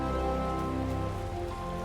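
Steady rain in the video game Final Fantasy XIV, an even, hissing patter with a low rumbling undertone that continues throughout with no voices.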